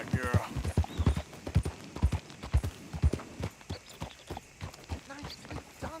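Horse hooves clip-clopping in a steady trotting rhythm in Red Dead Redemption 2, fairly close and even, with a voice speaking over the hoofbeats.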